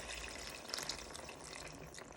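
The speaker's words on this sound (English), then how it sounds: "Now you want to add in some water." Water running steadily into a pan of beef goulash on the stove, a continuous close splashing pour lasting a couple of seconds with a faint trickle throughout.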